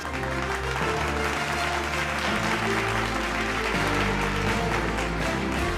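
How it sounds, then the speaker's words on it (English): Applause at the Indian Legal Awards 2023 ceremony for award winner Cyril Amarchand Mangaldas, steady and loud throughout, mixed with music playing underneath. "Ladies and gentlemen, can we have a round of applause one more time?"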